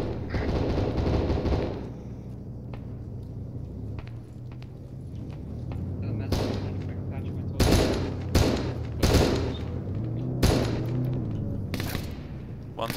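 Gunfire in the video game Arma 3 comes in loud, sharp bursts and rapid volleys over a constant rumbling combat background, with several distinct shots cracking out in the second half.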